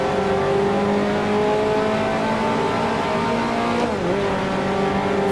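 A 1955 Formula One race car in the Grand Prix Legends sim holds a loud, steady high-revving engine drone, with a brief pitch dip and recovery near the end as it shifts or brakes.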